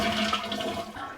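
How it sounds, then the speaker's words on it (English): An American Standard Vormax toilet flushes with a loud, steady rush of water that lasts the whole moment, close by and with no talking over it. "flush your toilet."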